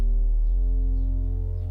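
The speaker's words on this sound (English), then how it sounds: "It's just the sine wave." A pure synthesizer sine-wave bass tone with no overtones or envelope holds low and steady, loud and sustained, with a slight shift in pitch partway through.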